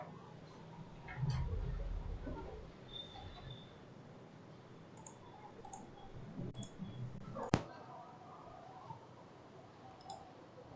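A computer mouse clicks sparsely while working in Civil 3D software, small faint ticks scattered over a quiet room hum, with one sharper click standing out.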